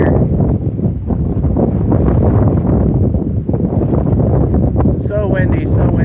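Strong wind buffeting the microphone outdoors on a bass fishing outing, a loud continuous low rumble with gusty surges, and a brief voice near the end.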